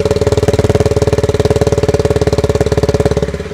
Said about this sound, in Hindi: ये गुड़गुड़ाहट आइडल कंडीशन,